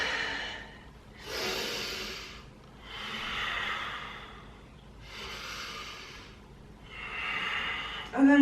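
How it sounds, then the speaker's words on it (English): Slow, deep breaths during a standing side-to-side stretching routine, each long inhale or exhale swelling and fading in a steady rhythm of about five breaths, close and fairly soft with no talk over them. "Deep breath in."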